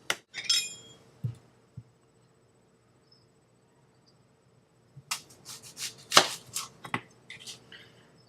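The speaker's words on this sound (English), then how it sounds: "So I'm going to continue the process by cutting up all the vegetables." Vegetables, including onions, chopped with a knife on a board for ceviche: a quick burst of crisp cuts at the start, then a pause with a few stray taps, and a busier run of sharp chops near the end.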